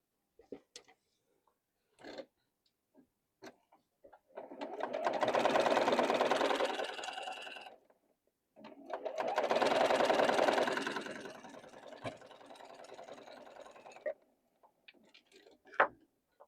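A sewing machine stitches quilt blocks in two sustained whirring bursts of a few seconds each, close and fairly loud, separated by brief pauses filled with scattered clicks and handling taps.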